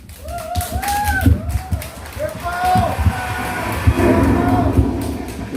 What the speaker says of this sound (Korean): 모르는 분은 옆에 사람과 그냥 박수나 쳐주시고 가보겠습니다